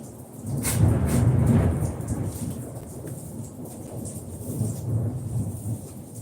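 Steady rain on a thunderstorm day, with hail mixed in, pours down over several seconds, its dense hiss swelling early and then settling, with low rumbling in the background and no voices.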